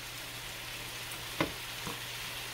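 Shell-on garlic pepper shrimp fry in a pan with a steady, even sizzle, broken by a couple of brief pops and crackles.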